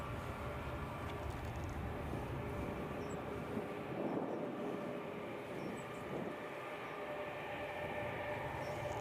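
Embraer ERJ 145 jet rolling for takeoff at Edinburgh airport, a faint, distant, steady engine roar heard over a continuous outdoor wash with no talking.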